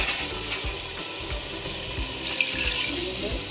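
Water runs steadily from a tap into a cooking pot, a continuous close splashing stream that carries on throughout.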